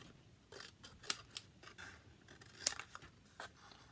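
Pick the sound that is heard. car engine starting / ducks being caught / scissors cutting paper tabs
scissors cutting paper tabs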